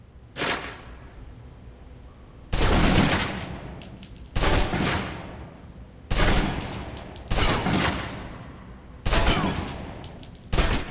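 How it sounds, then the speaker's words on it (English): Gunfire from the video game Alpha Protocol as a clip is emptied: five or six loud, close bursts of rapid shots, each about a second long, separated by short pauses, with no talk. "empty the clip. Let you get a feel for the recoil."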